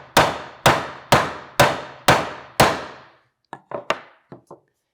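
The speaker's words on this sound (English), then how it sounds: "So I'm going to give that a few more taps with the hammer." Six sharp hammer taps on the wooden box of a small homemade cajon, evenly spaced and ringing briefly, followed by a handful of quieter, lighter taps.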